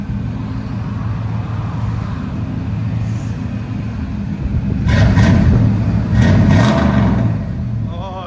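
A 1989 Chevy Silverado 1500 with a 350 V8 and Flowmaster Super 10 exhaust idles with a deep rumble, then revs up twice in loud bursts, with voices talking nearby.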